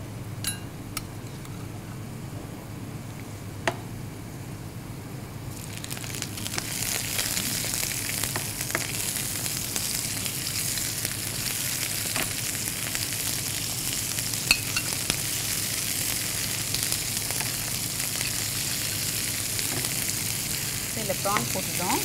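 Prawns hit a hot pan for a prawn and broccoli stir-fry, breaking into a loud, steady sizzle after a quiet start and frying continuously, with occasional stirring and faint clinks.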